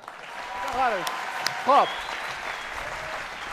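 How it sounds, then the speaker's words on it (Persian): An audience at a comedy talent show applauds in a steady wash of clapping, while a voice briefly speaks over it. "خودتون تشویق کنید"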